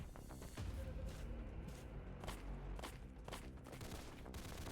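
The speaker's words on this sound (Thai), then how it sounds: "ใครยิงปืน" Repeated bursts of Roblox gunfire crackle in quick volleys, fairly faint, with a dense rumble running underneath.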